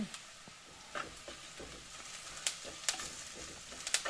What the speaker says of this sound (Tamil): இதோட கருவேப்பிலை சேர்க்குறோம்